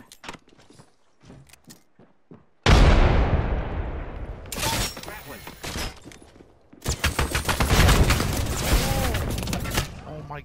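A frag grenade in the Apex Legends video game goes off with a loud, sudden blast that rumbles away, followed by more heavy bursts and rattling impacts, with a few soft sounds before it.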